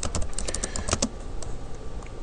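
Rapid typing on a computer keyboard, a quick run of crisp, close key clicks that thins out into a few scattered taps, heard alone with no talking.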